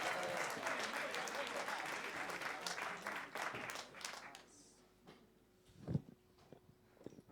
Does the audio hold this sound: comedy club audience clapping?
yes